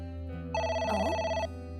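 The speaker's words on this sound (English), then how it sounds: "Oh, It's the phone." A telephone rings in the video game Ai: The Somnium Files, with one clear electronic ring burst standing out over steady background game music and no voices.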